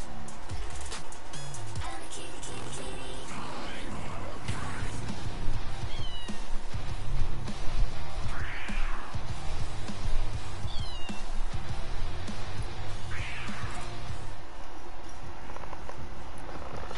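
A person imitates a cat with a series of voiced meows, repeated at irregular intervals over steady background noise and video game sound.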